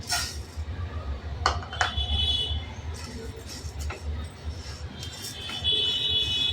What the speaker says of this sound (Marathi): आता आपण पॅन ठेवलं आहे निर्लेपचं आणि हे बघा वाटीभर डाळ आहे, आपण ती भाजून घेणार आहोत